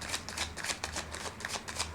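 A deck of playing cards is riffled and shuffled in quick repeated bursts of crisp fluttering snaps, close and steady across a couple of seconds with no speech.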